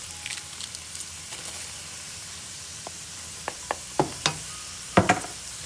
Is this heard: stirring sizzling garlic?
yes